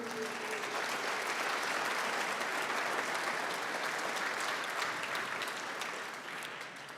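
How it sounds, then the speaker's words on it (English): A banquet-hall audience at a golf awards dinner applauds in a sustained wash of many hands clapping, steady and full before tapering off slightly toward the end. "One more round of applause for them."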